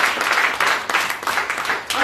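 A church congregation claps and applauds in a dense, continuous burst, the noisy patter pulsing with slight dips throughout.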